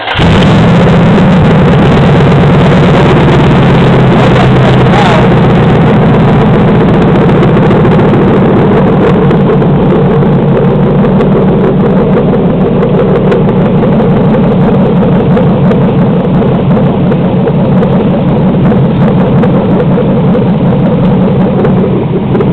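A 4.8-litre Vortec V8 from a 2007 Express van runs on an engine stand with no exhaust fitted, a loud, raw, continuous drone holding a steady idle throughout after it catches at the start.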